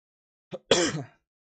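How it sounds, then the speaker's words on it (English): A short, sharp cough: a small huff followed by one harsher, louder cough, close and alone against silence. "I'm so sorry about all the coughing."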